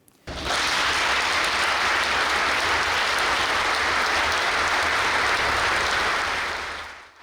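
A church congregation at a United Methodist annual conference in Côte d'Ivoire applauds and acclaims newly received pastors, a loud, dense, sustained wash of clapping that rises quickly and fades at the end.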